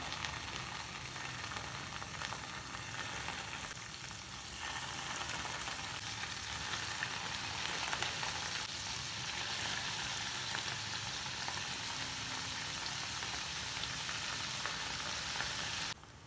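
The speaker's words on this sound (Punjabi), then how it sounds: "ਪਨੀਰ ਨੂੰ ਜਿਹੜਾ ਹੁਣ ਅਸੀਂ ਜਿਹੜਾ ਫਰਾਈ ਕਰਦੇ ਹਾਂ ਚਲੋ ਫਰਾਈ ਕਰਨਾ ਹੈ" Paneer frying in hot oil over medium gas: a steady, dense sizzle and crackle lasting throughout, close and even, with no talking.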